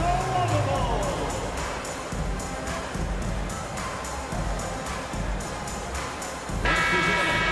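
An arena crowd at a Chicago Bulls playoff game against the Pacers roars and cheers during a timeout, a broad steady din of noise with a public-address voice speaking over it.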